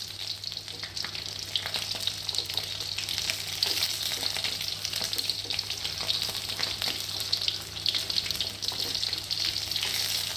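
Chicken skin fries in oil to render chicken oil, a dense steady bubbling sizzle with occasional stirring scrapes, unbroken and without talk.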